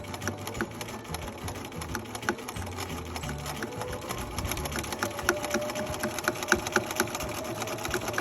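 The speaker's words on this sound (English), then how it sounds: "I'm gonna sew forward again until I meet that other stitching line." A sewing machine back stitches and then runs forward again, a fast, steady mechanical whir with rapid needle ticks that keeps going at a moderate level throughout.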